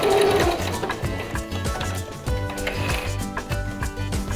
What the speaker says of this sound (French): Terminez votre couture par quelques points en marche arrière.